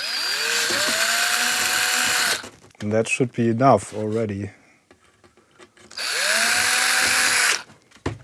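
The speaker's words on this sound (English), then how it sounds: "Basically just using a 3mm drill on this little bit here." A small 3mm drill whines loudly for a couple of seconds drilling into a plastic Atari 65XE computer case, a person speaks briefly, then the drill spins up again for another burst.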